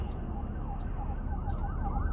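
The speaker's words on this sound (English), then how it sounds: "Here go another ambulance. Damn, these ambulances." An ambulance siren passing on a street, a wailing tone rising and falling under steady traffic noise, fairly faint and distant with no voices.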